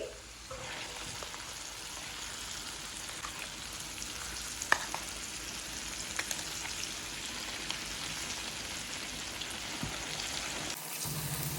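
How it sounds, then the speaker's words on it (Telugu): Tomato pickle goes into a pan of sizzling tempering, making a steady close frying hiss with faint crackles and a few small knocks that runs without voices before cutting off near the end. "తాలింపు చక్కగా వేగిపోయిన తర్వాత మనం రెడీ చేసుకున్న పచ్చడిని ఇందులోకి వేసుకోవాలి"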